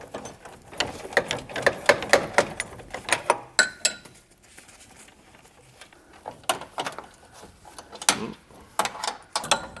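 Screws are backed out of a metal electric meter housing, giving a busy run of close ratcheting clicks in bursts with a brief quieter pause between them, faint voices in the background.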